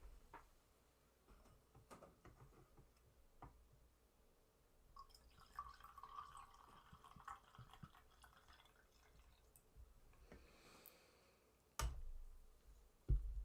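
Liquid is poured slowly at a coffee-brewing setup, producing faint, soft trickling and dripping sounds with a few light ticks and taps, including a louder knock near the end.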